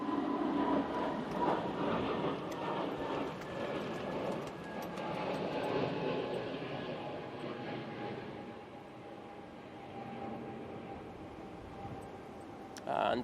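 A Canadian C-130 Hercules departs Manchester Airport during Storm Amy, its turboprop drone a broad, steady roar with tonal hums that slowly fades as it recedes, under wind noise and occasional talk.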